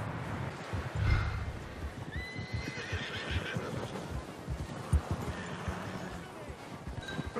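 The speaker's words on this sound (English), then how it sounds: "Where's my horse going?" A horse in the Red Dead Redemption 2 video game lets out a rising whinny about two seconds in, over a busy bed of game ambience with scattered hoof-like thuds.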